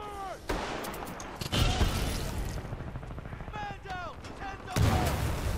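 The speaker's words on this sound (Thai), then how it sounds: "มีเสียงระเบิดมีเสียงระเบิด" Explosions and gunfire in the shooter game Titanfall 2: sharp gun bursts and booming blasts recur throughout, mixed with whistling effects, loud and close, with a voice speaking over the action.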